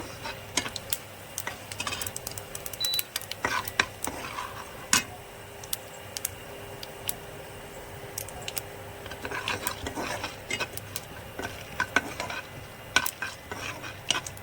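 Chana dal and urad dal frying in oil while being stirred, with frequent sharp scraping and clicking of a spoon against the pan over a low sizzle.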